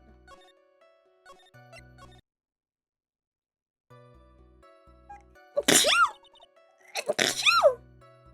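Two sharp sneezes, about a second apart, burst out loud and close after a quiet stretch with faint scattered background sounds.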